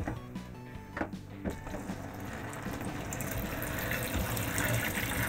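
Water rushes steadily from a tap or hose as it fills a batch of water balloons, starting with a few splashes and building into a constant, fairly loud flow with no talking.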